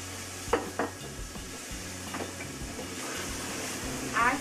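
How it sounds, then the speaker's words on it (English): A spoon stirs vegetables into a low-heat pot of chicken and okra gumbo, a few scraping strokes over a soft steady sizzle, fairly quiet and close, with no talking. "Stir everything together."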